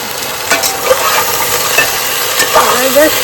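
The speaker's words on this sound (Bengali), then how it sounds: "এর সাথে কাঁচা লঙ্কাটাও দিয়ে দেবো একটু দিয়ে জাস্ট নেড়ে নেবো" Green chillies sizzle loudly in a hot frying pan as they are stirred, with repeated scraping strokes of the spoon over the steady frying hiss, close up and without talk.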